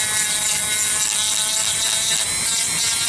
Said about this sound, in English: we take our little sander and we just hit it there